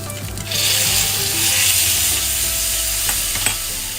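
Crispy pork and chilies are stir-fried in a wok with oyster sauce: a loud, continuous sizzle with scraping spatula strokes and a couple of sharper metallic knocks toward the end.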